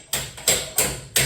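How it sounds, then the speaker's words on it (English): A hammer taps a cone into a garage door spring during a broken spring repair, giving four sharp, evenly spaced metallic strikes, loud and close with no talk. "So I get the hammer,"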